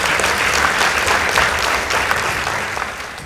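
Audience applause at a high school debate competition between 8 Apostle of Jesus Seminary and Karima Girls High School, a dense, steady round of clapping from a sizable crowd that holds loud throughout and fades slightly at the end.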